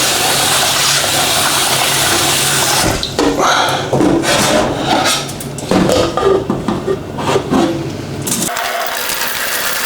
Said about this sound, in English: I like to clean the rice about 3 times just to make sure